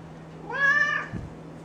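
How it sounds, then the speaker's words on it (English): Clingy house cat giving a single clear, close meow lasting about half a second, followed by a soft thump in a quiet room. "He is such a clingy cat."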